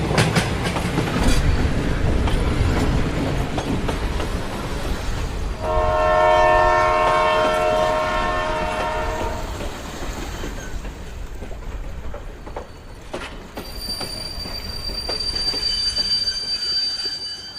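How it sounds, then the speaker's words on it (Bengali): A passenger train rumbles onto a bridge, its wheels clattering and squealing loudly and close, with a long sustained horn blast in the middle and a fainter high metallic whine toward the end. "এভাবে যেতে যেতে কিছুক্ষণ পর ট্রেনটা পৌঁছে গেল সেই অভিশপ্ত ব্রিজের উপরে"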